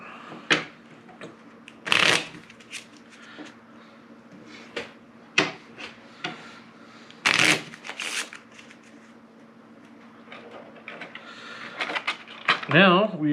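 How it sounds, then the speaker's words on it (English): Cards from an action deck in the Stranger Things Upside Down board game are shuffled on a table: several distinct riffling bursts and card taps scattered across the stretch, with a person talking between them. "Now we shuffle the action deck and advance 11."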